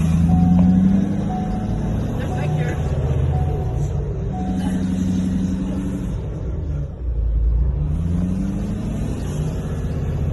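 A tuned, deleted 2019 Ford 6.7 Powerstroke diesel truck with a deep loud rumble that dips briefly as it shifts gears, then picks back up, heard from close by.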